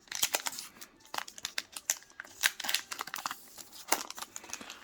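Crinkly foil of a Pokémon Evolving Skies booster pack being torn and crumpled open, a close, rapid run of sharp crackling rips and rustles with no talking.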